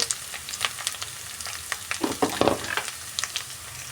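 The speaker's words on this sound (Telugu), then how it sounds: "పచ్చి వాసన పోయే వరకు ఒక రెండు నిమిషాలు బాగా వేగించుకుందండి" Carrots sizzling with spices in a pan, for a carrot, potato and moong dal curry: a continuous crackling fry broken by short stirring scrapes, close and moderately loud.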